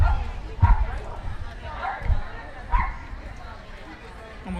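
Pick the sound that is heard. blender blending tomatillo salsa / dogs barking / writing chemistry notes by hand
dogs barking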